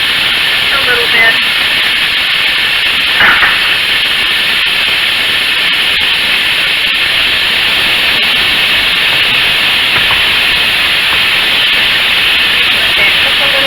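Food cooking in olive oil in a pan, giving a loud, continuous broadband sizzle and hiss that runs steadily throughout, with a voice talking over it.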